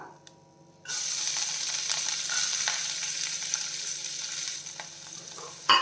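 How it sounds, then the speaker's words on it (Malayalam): Chopped ginger and garlic dropped into hot oil burst into a sudden loud hiss after a moment of quiet, then keep sizzling steadily with a few faint stirring clicks. "ഇതിൽ നമ്മൾ കട്ട് ചെയ്ത് വെച്ചിരിക്കുന്ന ഇഞ്ചി വെളുത്തുള്ളിയൊക്കെ ചേർത്ത് കൊടുക്കാം"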